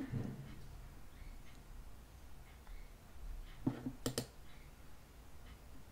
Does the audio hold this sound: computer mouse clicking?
yes